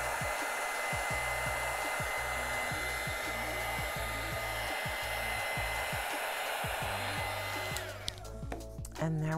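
A heat tool blows a loud, steady whirring stream of hot air over embossing powder on a wood cradle, with a rhythmic pulsing hum underneath, close to the mic, and the blower cutting off near the end.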